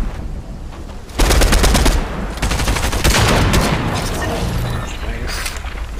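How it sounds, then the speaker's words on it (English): Rapid automatic gunfire and booming shots from a Fortnite duos match, loud and sustained in dense bursts with brief lulls, over constant game ambience. "Shooting the people."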